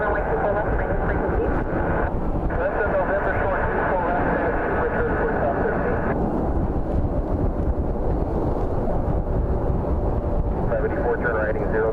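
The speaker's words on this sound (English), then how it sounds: "Got a Frontier A321 taking the runway" A Frontier Airbus A321 taking the runway at Cleveland Hopkins airport, heard as a steady, broad jet rumble with wind noise and occasional talk.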